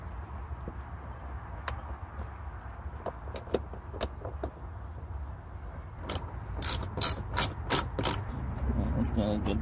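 Screws being driven into a panel inside a Jeep Wrangler during sound-dampening work, a series of clicking ratchet turns that grows into a louder run of rapid clicks near the end, close by in a quiet cabin.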